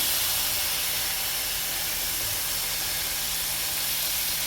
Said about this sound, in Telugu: ఇందులో ఇప్పుడు మనం బటర్ వేసేసుకుందాం